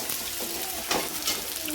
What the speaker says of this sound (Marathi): त्यांना पण छान असं फोडणीमध्ये परतून घ्यायचं आहे